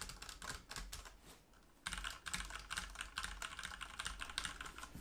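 Someone types on a Ducky One 2 Mini keyboard with PBT keycaps, producing rapid, close clusters of crisp key clacks with a brief pause before the typing resumes.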